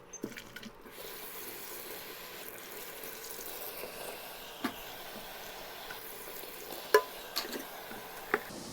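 Dishes washed by hand at a kitchen sink: a quiet, steady wash of water with occasional soft clinks and knocks of dishware, the sharpest near the end, with no talk.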